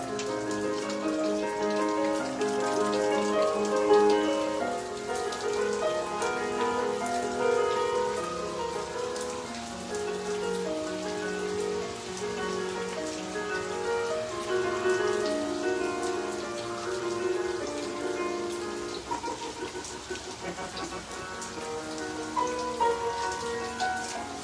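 Steady rain falling on surfaces, a dense continuous patter of drops at a fairly loud level throughout, with no voices.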